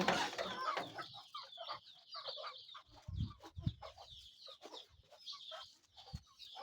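Native desi chickens cluck at a Madaripur chick farm, with repeated short clucks and bird calls at close range, some louder throaty bursts mid-way, and no talking.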